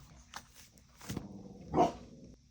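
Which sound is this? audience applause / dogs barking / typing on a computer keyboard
dogs barking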